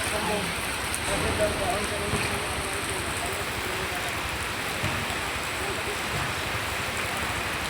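Steady rain hisses evenly throughout, a dense continuous wash of drops with no pauses.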